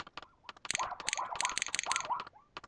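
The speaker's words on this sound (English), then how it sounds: "More sounds of me clicking like crazy." Rapid bursts of computer mouse clicks while playing Zoo Tycoon on PC, a dense irregular clatter of close, crisp clicks with brief pauses and a soft electronic tone underneath.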